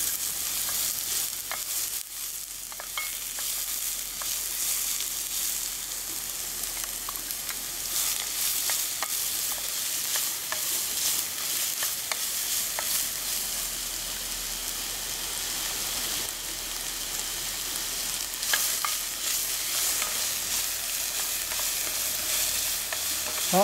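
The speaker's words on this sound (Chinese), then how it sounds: "然后用我们的大蒜末先下去爆香。 然后我们的洋葱末啊，" Minced garlic and onion sizzle in a hot pan as the base for a clam chowder, a loud continuous crackle and hiss close by with occasional stirring scrapes, no voices.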